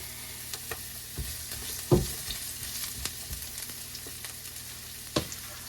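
Garlic and onions sauté in a pan, giving a soft, steady sizzle broken by a few scraping stirs and clinks of a utensil, close by and fairly quiet.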